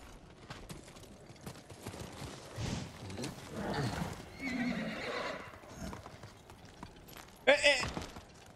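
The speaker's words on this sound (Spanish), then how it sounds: "Un caballo raro" In the video game Ghost of Tsushima, a horse clip-clops steadily while game sounds and a voice run alongside, then lets out a loud, sharp neigh near the end.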